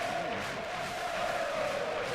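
Travelling Dunfermline Athletic fans at an away match against Raith Rovers hum a sustained melody together with clapping, a broad crowd sound heard from a distance.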